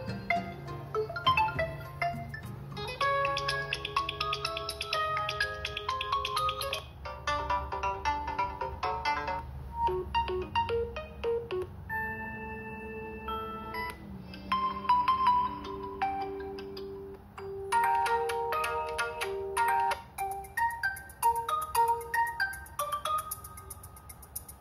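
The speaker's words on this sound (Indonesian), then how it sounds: "ini ringtone yang dihasilkan itu lumayan jernih dan cukup keras suaranya ya" An Oppo Reno 5 smartphone ringtone plays a bright, clear melody through its single small speaker, loud and continuous with repeating musical phrases and no talking.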